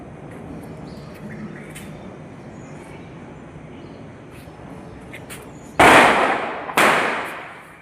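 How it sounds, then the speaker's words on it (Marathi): Two sharp firecracker bangs burst a second apart on a Lakshmi Puja morning in Badlapur, each loud and decaying, with quieter ambient morning sounds before them. "फटाक्यांचा आवाज पण तुम्हाला येतोय."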